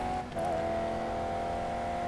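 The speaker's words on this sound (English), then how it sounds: "Car coming past to lap me." A race car in the TOCA Race Driver 3 video game, classic F1 or Can-Am machinery, drones past steadily at high revs, its engine note shifting briefly as it comes alongside to lap, loud and continuous with no talk.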